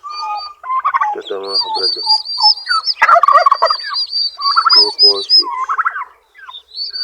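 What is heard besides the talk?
turkey gobbling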